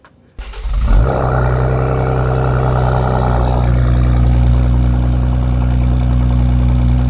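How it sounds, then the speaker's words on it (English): A 2020 Ford Explorer ST fitted with a 3-inch Thermal R&D exhaust fires up from cold: a brief crank, then a loud burst as it catches, settling into a deep, steady, rumbling high idle close by. "let's go ahead and get this cold start done."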